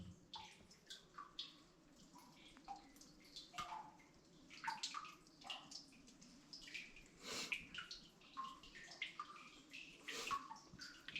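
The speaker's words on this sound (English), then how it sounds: "Well, it's full of water, which is, there's a small stream seeping out." A small stream of water seeps out of a flooded abandoned lead mine, giving steady soft trickling with irregular drips and splashes, fairly quiet and with no voices.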